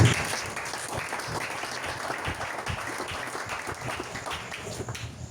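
A church congregation applauding to acclaim the Lord, many hands clapping together in a dense, steady patter that fills the room and slowly fades, with no voices over it.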